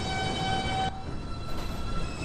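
A Manhattan-bound 2 train on the New York City subway at Beverly Road station, a steady rumble of the train with a sustained tonal whine that cuts out partway through, continuous and fairly close.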